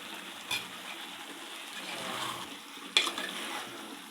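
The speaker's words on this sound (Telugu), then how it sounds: "ఇవన్నీ మంచిగా కలుపుకొని" Chicken curry with salt and spices is stirred in a pan, a soft, fairly quiet sizzle broken by two light clinks of a spoon against the pot.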